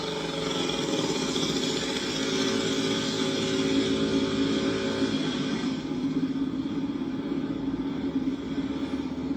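A motorcycle rolls past on a Los Angeles street during unrest, its engine a loud, steady rumble with a droning tone that holds for several seconds and then eases off. No voices.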